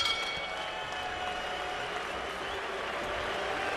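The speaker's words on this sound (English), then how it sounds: "the crowd boos Lepikhin for what they judge to have been a less than spirited effort" A boxing crowd at the Isaac Chilemba vs Vasily Lepikhin fight roars steadily with a dense wash of voices and scattered applause, sustained and fairly loud throughout with no break.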